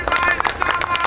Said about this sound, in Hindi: कम से कम इसके लिए आप तालियां ज़ोर से बजा लो